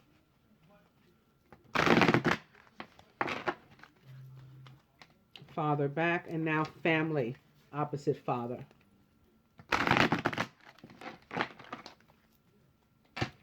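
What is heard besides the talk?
shuffling oracle cards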